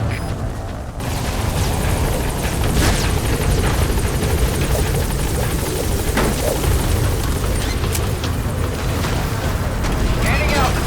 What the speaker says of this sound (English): Now hurry up and take the chopper out of there.